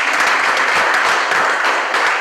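A dense, steady burst of applause from a crowd at a university law society event, loud and close throughout.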